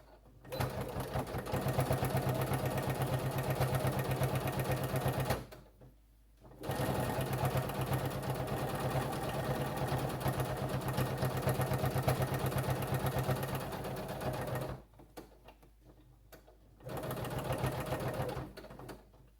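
A sewing machine top stitching an eye mask at a 3.5 stitch length, running steadily and close for long stretches, stopping briefly twice before starting up again.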